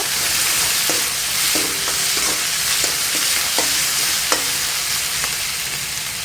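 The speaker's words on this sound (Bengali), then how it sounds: "টমেটোটা দিয়ে অনেক টাইম ভাজতে হবে। এখন দিয়ে দেব নুন। আবারও ভাজবো।" Tomato frying with salt in a pan for a pointed gourd curry, a loud continuous hiss and sizzle close up, with light tapping and scraping of a spatula stirring at intervals, no talk.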